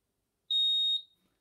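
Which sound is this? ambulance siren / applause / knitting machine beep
knitting machine beep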